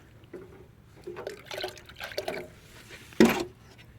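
Diluted fermented chicken manure water poured onto garden soil, giving close, uneven splashing and gurgling bursts with a sharper splash near the end, heard without talk.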